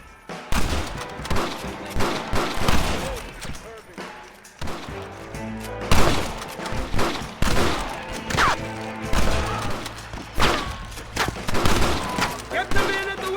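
Repeated loud gunshots in the Western video game Red Dead Redemption as snipers in windows are taken out, sharp cracks and volleys spaced across the stretch, with game dialogue and talk in between.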